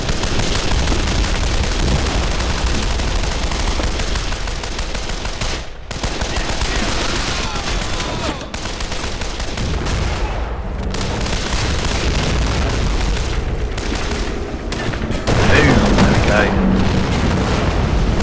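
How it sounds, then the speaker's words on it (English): Artillery strikes and gunfire in a WWII strategy video game, the Küstrin battle: dense, continuous rumble of booms and shots throughout, with brief lulls, loud and sustained. "Nice artillery strikes, nicely placed shots there."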